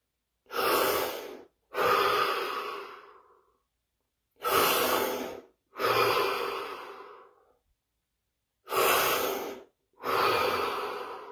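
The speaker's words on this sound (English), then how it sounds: "We start with 3 deep breaths followed by 15 seconds of absolute stillness and silence." Six deep breaths in a quiet room, taken in three paired cycles of a sharp inhale followed by a longer, fading exhale, close and fairly loud, with silent gaps between pairs and no talking.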